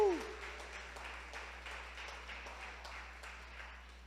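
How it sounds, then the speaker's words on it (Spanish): A church congregation breaks into steady clapping of praise, a moderate and even applause continuing throughout after a brief opening voice. "Alguien levanta un aplauso de alabanza al Rey de Reyes."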